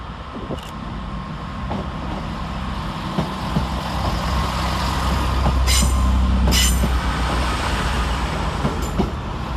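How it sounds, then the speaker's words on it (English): Two coupled Chiltern Railways Class 165 diesel units pull out of London Marylebone on the Oxford service, a steady engine rumble building in loudness with sharp wheel squeals and metallic clicks over the rails, no voices. "Next out, two departees 165027 and 165039 with the 1716 Chiltern Railway service to Oxford."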